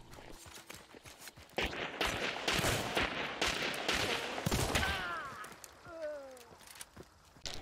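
Gunfire in the game Hunt: Showdown, a few sharp shots and a burst fired indoors at close range after a flash, with loud bursts mixed among scuffling and clatter.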